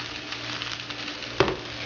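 Spinach sautéing in garlic and oil in a pan gives a steady close sizzle with a brief sharper crackle near the end, and no voices.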